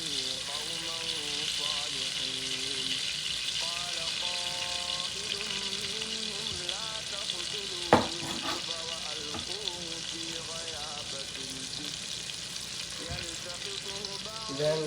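Onions and garlic fry in melted butter for a creamy shrimp vodka pasta, a steady close sizzle running throughout with a few soft clinks and a brief sharp knock partway through; some faint talk sits low underneath.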